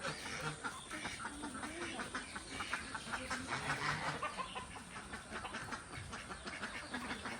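Chickens cluck repeatedly in soft, irregular bursts at a distance, with a rustling outdoor background.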